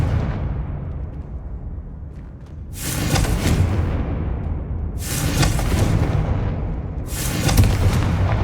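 Confringo blasting spell explosions in Hogwarts Legacy: three loud, close booms in fairly even succession, each with a bright crackling burst and a rumbling tail, over steady game ambience.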